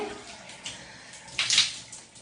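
Water runs and splashes briefly while hair-care product is rinsed out of hair, a close, moderate gush that swells near the end.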